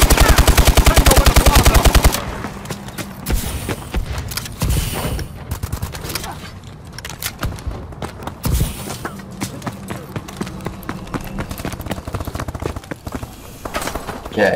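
Rapid automatic gunfire in Call of Duty Advanced Warfare, an intense burst at the start followed by scattered shots, clatter and game effects, loud and close.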